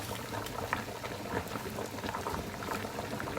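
Steady bubbling and popping of a pot of water boiling over with lasagna noodles on a home stove, continuous and fairly close, with no talking.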